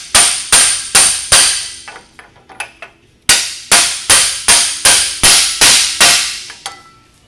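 Repeated sharp hammer blows drive a roller adapter onto a shaft on an old style second gen Toro roller: a fast run of strikes, a pause with lighter taps, then another steady series, loud and close.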